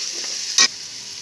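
Spices with salt fry in oil for a Bengali country-duck curry, a soft, steady sizzle close by, broken once midway by a brief sharp spatter or scrape.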